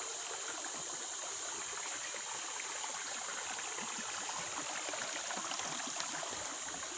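Water rushes at the Anchetti waterfall in a dense forest in Krishnagiri district, a continuous even hiss of flowing water, steady and moderately faint with no voices.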